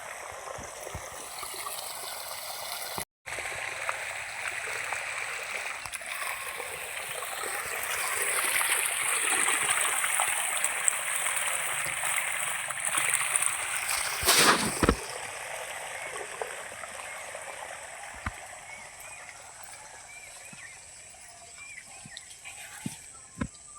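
A fast-flowing stream rushes continuously over stones outdoors, a loud steady wash of water with occasional splashes and a few faint footsteps nearby.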